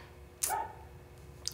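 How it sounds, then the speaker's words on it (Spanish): Dogs bark once, a short sharp burst rising over a faint steady background hum, followed by a fainter second yelp near the end, with no talking. "¡Cállense, perritos!"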